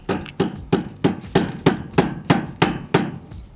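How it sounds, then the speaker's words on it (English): A mallet gently taps a tiny house roofing panel to nudge it into place, about ten evenly spaced, solid knocks at a steady rhythm, close and clear with no talking. "just using a mallet and just gently tapping it until it's moved that 32nd or so of an inch"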